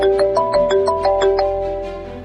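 A mobile phone ringtone for an incoming call plays loud and close in an office, a repeating melodic sequence of bright chiming notes that runs steadily, with no voices over it.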